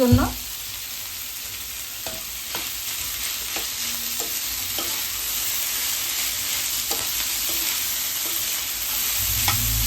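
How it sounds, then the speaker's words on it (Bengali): Pieces of chicken fry with raw onion in a hot pan, giving a steady, loud sizzle throughout, with regular scraping clicks as the mixture is stirred. "চিকেনটা ভালো করে ভেজে নেব যতক্ষণ না চিকেনটা সেদ্ধ হচ্ছে"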